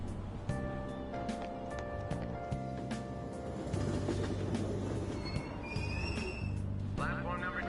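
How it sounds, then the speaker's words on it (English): A Tokyo subway train in Persona 5 Royal rumbles and clatters as it pulls out of the station, with wheel noise and squeals, a chime and platform announcements over the steady rail din. "Platform number 2, service to Asakusa is departing soon."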